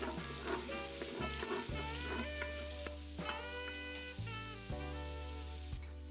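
Diced onion sizzles in an Instant Pot inner pot after meat is removed, a quiet continuous crackle with faint tonal hums and occasional clicks, no voices.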